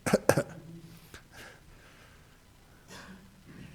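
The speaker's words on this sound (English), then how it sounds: "I'm just going to cough in sympathy for you, even though I don't need to." A man's deliberate sympathetic coughs, two sharp close bursts at the start followed by softer throat sounds and breaths in a quiet room.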